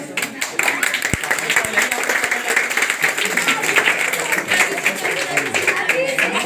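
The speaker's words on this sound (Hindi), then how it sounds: "जोरदार तालियों से स्वागत करिए" Scattered clapping rises into steady applause from a crowd welcoming guests at a coaching centre inauguration, with a few sharp individual claps early and voices mixed in.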